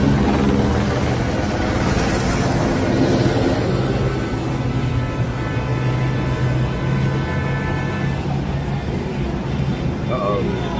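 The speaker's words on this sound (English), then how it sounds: "Helicopter shining right on the hood." Helicopter hovering low over a street protest at Main Street and Cesar Chavez in Los Angeles, shining its light down, a steady loud rotor drone that fills the whole stretch while people talk nearby.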